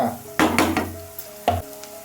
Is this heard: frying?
yes